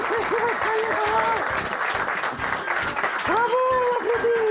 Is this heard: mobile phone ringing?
no